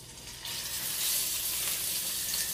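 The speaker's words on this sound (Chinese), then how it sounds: "咁我將佢咧四面煎到佢金黃色" Frozen tofu hits a hot pan and sizzles loudly: a sudden burst of frying that starts after a brief quiet moment, then keeps up a steady crackle, close and continuous.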